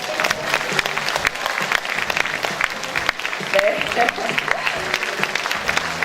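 Crowd claps at a provincial governor's inauguration ceremony as bouquets are handed over, a sustained wash of applause with a voice speaking briefly over it.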